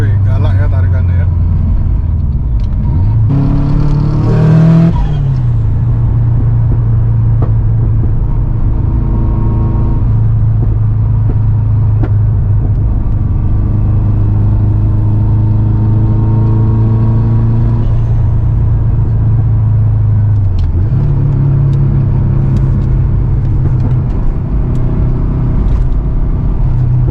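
A Subaru STI pulls hard under acceleration, a deep engine drone rising and sweeping in pitch through the gears, loud from inside the cabin while occupants talk over it.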